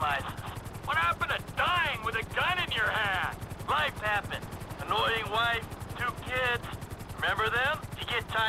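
A helicopter is flown in the video game GTA V, its steady rotor thrum pulsing continuously beneath two people talking throughout.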